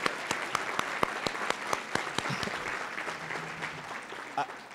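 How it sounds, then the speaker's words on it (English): Audience applause at a Project We Care 2018 recognition event, a steady wash of many hands with a few sharp close claps standing out, fairly loud and continuous, fading slightly toward the end. "let's give her a round of applause"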